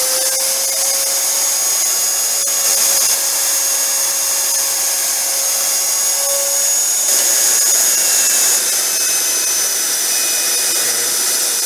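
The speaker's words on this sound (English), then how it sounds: "So drilling holes next" A steady, loud high-pitched mechanical whine from a power drill drilling holes in a knife blade runs throughout, with slight shifts in pitch and no speech.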